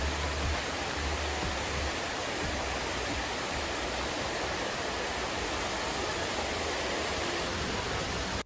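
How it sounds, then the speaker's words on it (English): Jamaican waterfalls pour in a continuous, loud, even roar of rushing water that holds steady throughout with no voices. "But first, have a look at the waterfalls."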